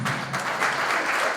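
An audience at a school alumni gala claps together, producing a short, dense burst of applause that holds steady at close range with no break.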